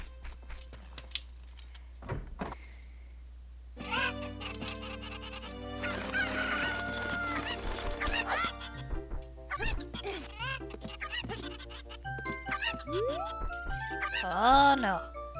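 Cuccos, the chickens of Zelda: Ocarina of Time, cluck and squawk in repeated nasal honking calls over game music and a steady hum, some near and loud, scattered through the stretch with a burst near the end.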